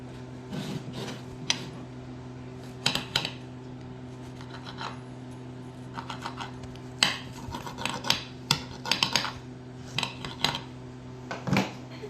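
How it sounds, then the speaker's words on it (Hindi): A knife cutting a paratha in half on a plate for a tiffin box, with irregular clusters of sharp metallic clinks and scraping taps against crockery, fairly close and quiet, no voices. "हाफ हाफ काट लेंगे इनके टिफ़िन बॉक्स के लिए"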